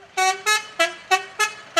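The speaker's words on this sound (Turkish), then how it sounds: "dıt diye kornaya basıyorsun" A car horn honks six times in a quick, evenly spaced series of short, loud, close toots.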